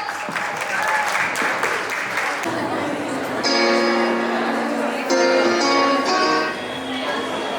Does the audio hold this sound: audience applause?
yes